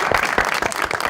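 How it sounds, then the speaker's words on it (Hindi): Audience applause during a talk-show interview, dense, continuous clapping heard up close in a short burst. "बहुत सारी तालियां"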